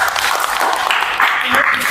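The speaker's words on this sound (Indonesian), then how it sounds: "Tepuk tangan untuk kita semuanya." Brief round of clapping from a classroom audience after student group presentations, steady and moderately loud over a couple of seconds.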